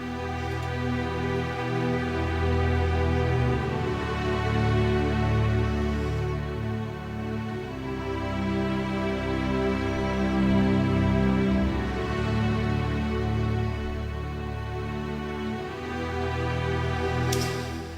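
Lush sustained string chords played together, rich low strings under higher parts, swelling and shifting smoothly between harmonies for a long stretch.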